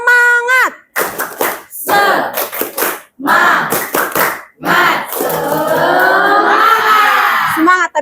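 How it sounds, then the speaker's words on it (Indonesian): Group of students clapping a rhythmic classroom chant, bursts of synchronized claps with shouted chanting voices, loud and close, ending in a long cheering, shouting stretch. "ayo coba kita semua tepuk semangat"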